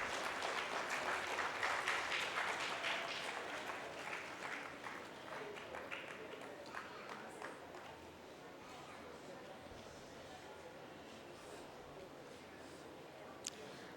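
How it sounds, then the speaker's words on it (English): An audience at a conference session applauds to welcome the chief guest, a faint, fairly dense clapping that slowly thins and fades over about eight seconds before quieter room noise. "Let's welcome MP Vasimalai sir with a big round of applause"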